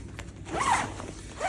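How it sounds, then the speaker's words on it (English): A zipper is pulled closed along a fabric storage bag holding a crystal-embellished dress, one quick close zipping run, with no talk. "we zip it up"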